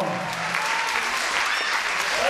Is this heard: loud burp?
no